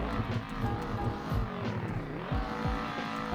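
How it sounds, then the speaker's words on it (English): A powerful twin-turbo V8 car engine revs and accelerates nearby, a deep rumbling roar with audible turbos, rising pitch and a brief lift between gear changes. "it sounds really good, and you can really hear those turbos"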